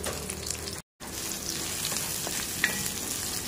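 Garlic, onion and ginger sizzle steadily in hot oil in a pan, a close, continuous frying hiss with faint stirring scrapes and one brief dropout.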